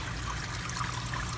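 A small waterfall trickles into a bucket worm farm filled with rocks beside a pond, a soft, steady, faint burble of running water over low background hum.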